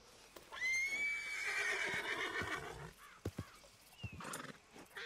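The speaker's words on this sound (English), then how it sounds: "Fucking weird ass horse." A horse in the video game Red Dead Redemption 2 lets out a loud, drawn-out whinny, followed by a few thudding hoof clops and shuffling sounds.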